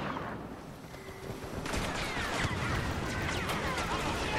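Gunfire in the PC game Star Wars Battlefront: after a quieter opening, a dense burst of rapid blaster shots and impacts erupts about halfway through and continues as a steady, close volley to the end.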